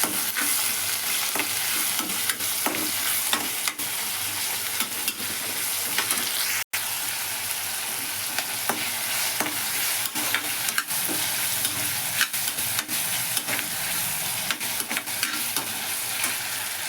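Onions, capsicum and tomatoes frying in desi ghee in a pan while being stirred, a steady close sizzle broken by frequent scraping and clinking strokes of the spoon, with no talking throughout.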